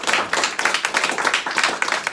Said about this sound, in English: Give RJ a round of applause.